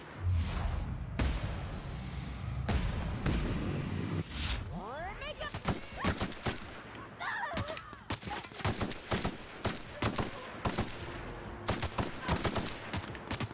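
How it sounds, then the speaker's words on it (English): Rapid bursts of machine gun fire in The Outer Worlds, played on hard difficulty, crackling in repeated loud volleys mixed with other gunshots and combat noise, with voices talking over the battle. "I don't know if that machine gun's actually any good, really"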